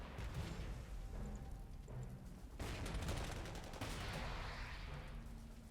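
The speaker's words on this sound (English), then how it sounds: "I can even use my artillery." Artillery fire in the Panzer Corps 2 strategy game, Moscow 1943 scenario: dense, booming bursts and rumbling blasts layered over a continuous din of battle, loud and close, with a heavier salvo erupting midway.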